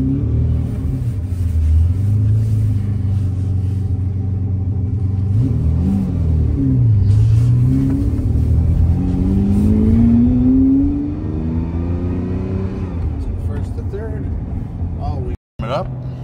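A 1988 Ferrari Testarossa engine idles with a deep, steady rumble, then revs rise and fall in smooth sweeping swells as it warms up, loud and close throughout, with a brief sharp dropout near the end.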